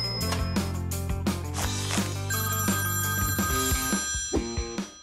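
A telephone rings in a pet-rescue hospital game, a bright repeating electronic bell pattern with rhythmic chimes and tones over a steady backing, loud and continuous for several seconds.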